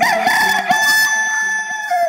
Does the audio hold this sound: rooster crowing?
yes